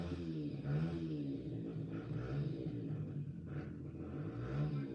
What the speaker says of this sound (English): If you hear revving in the background